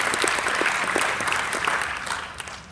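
Audience members at a talk for church pastors clap in a loose, uneven round, individual claps standing out before the applause thins and fades away.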